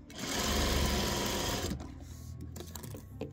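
A sewing machine stitches a quilt seam, its steady motor whir loud and close for under two seconds before dropping to a quieter, uneven mechanical hum.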